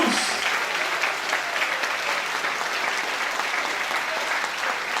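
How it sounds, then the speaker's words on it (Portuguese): A church congregation at a worship service bursts into loud, sustained applause, dense clapping filling the hall evenly from start to finish. "Você pode aplaudir bem forte ao Senhor Jesus?"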